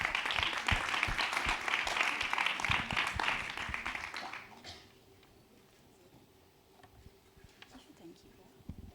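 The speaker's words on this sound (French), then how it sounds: "Merci de l'applaudir." Applause from an audience at a startup pitch event, moderate clapping for about four seconds that fades out, followed by quiet room noise and faint sounds of someone moving.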